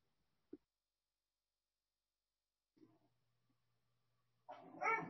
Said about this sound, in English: my puppies have decided to be vocal at this particular moment